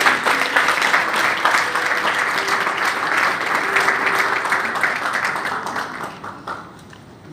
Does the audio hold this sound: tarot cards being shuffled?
no